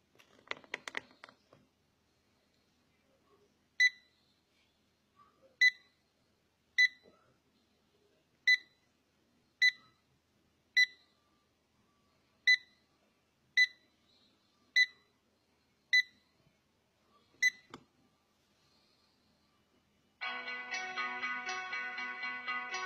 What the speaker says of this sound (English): If the input is incorrect, a longer beep will sound